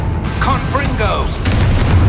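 A Confringo fire blast spell from Hogwarts Legacy fires as a booming, rumbling burst that is loud and continuous, with a voice shouting over it and a sharp crack near the middle.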